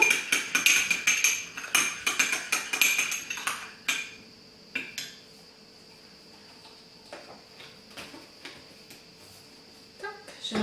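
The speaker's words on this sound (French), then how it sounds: "Le savon noir, je mélange le tout." Black soap mixture for homemade dish soap being stirred, a dense run of clinking, scraping strokes against the container in the first four seconds, then quieter sparse taps and a steady faint whine.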